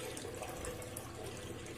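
Two to three litres of water running steadily into a large cooking pot on a stove, a continuous close splashing pour with no talk, as rice payasam is started.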